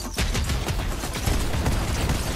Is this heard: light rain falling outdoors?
no